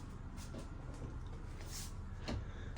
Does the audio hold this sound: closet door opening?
yes